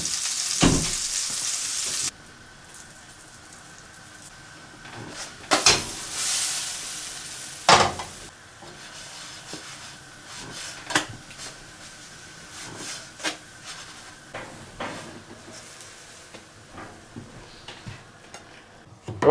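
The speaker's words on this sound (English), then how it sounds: "So let's just quickly cook up some pancakes." Pancake batter frying in a buttered pan, a steady close sizzle broken by several sharp clinks and scrapes of a utensil against the pan, with a louder hiss early on.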